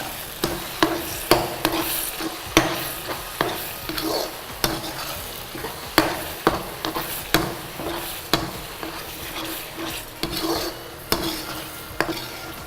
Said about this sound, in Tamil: இஞ்சி பூண்டு பேஸ்ட் போட்டு அந்த இஞ்சி பூண்டு பேஸ்ட்டோட பச்சை ஸ்மெல் போகிற அளவுக்கு நல்லா வதக்கணும்